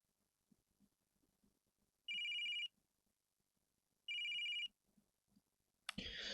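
Two electronic phone rings from a video game, each a bright sustained trill of about half a second, separated by quiet, followed by a sudden loud burst of noise at the end.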